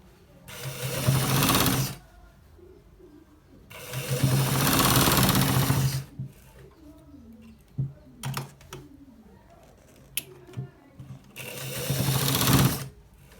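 A sewing machine stitches the end part of a designer shirt in several short bursts of rapid whirring, separated by pauses filled with clicks and fabric handling; no one speaks.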